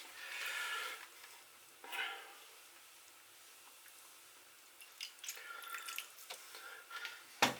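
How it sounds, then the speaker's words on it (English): A spoon stirs a couple of tablespoons of Asian vinegar into an orange chicken stir fry, giving soft scraping and wet swishing in bursts with a light sizzle behind and no talking. "I'll stir that in"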